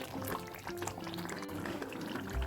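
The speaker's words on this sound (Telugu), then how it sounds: "ఇదంతా కలుపుతూనే ఉండాలి లేదంటే ఈ బ్రోలన్నీ వచ్చి మీద పడతాయి" Tamarind mixture for tamarind pulihora stirred steadily as it cooks in a pan, a continuous bubbling, liquid churning close by with no talking.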